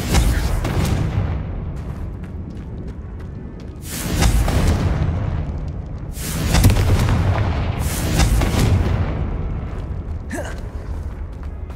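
Repeated Confringo blasting spells in Hogwarts Legacy burst as heavy, booming explosions over a dense rumbling game backdrop, with several loud blasts rolling into each other.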